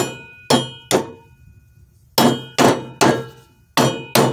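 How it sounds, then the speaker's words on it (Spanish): Seven loud metallic hammer blows ring out on lawn tractor mower blades, sharp clanging strikes in irregular pairs with ringing decay between them. "Al menos que las golpees con un martillo de esta manera."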